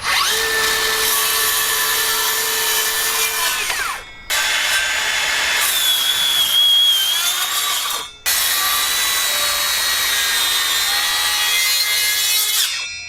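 A Makita HS012G 40v blade-left circular saw cuts framing timber at a 45-degree bevel, giving a loud, steady high whine that runs in three long stretches separated by two brief dips.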